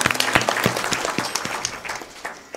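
Audience applause at a Marathi kirtan religious discourse, a dense burst of many hands clapping at once, steady and fairly close, with a faint voice under it.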